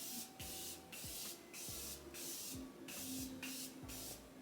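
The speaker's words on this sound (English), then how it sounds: "I'm just going to spray my face." Morphe setting spray misted onto a face, a run of about eight short, close, hissing pump sprays spaced roughly half a second apart with brief gaps between them.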